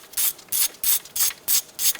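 Ratchet wrench loosening a 10mm ABS sensor bolt at the front wheel hub of a 2008-2013 Nissan Rogue, making six close, crisp clicking strokes at an even rhythm.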